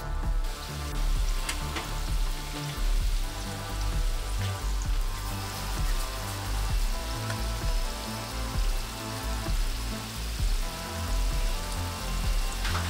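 Jamaican fried dumplings frying in a pot, a steady, dense sizzle and crackle of hot oil that carries on without pause, close and fairly loud.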